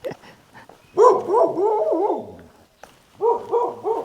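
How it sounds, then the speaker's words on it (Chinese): A village dog in a quiet tribal settlement barks and whimpers close by: a short burst of strained, pitch-sliding yelps and whines, a brief pause, then more rhythmic whimpering barks. "这边的狗狗都非常的温和它不会攻击人"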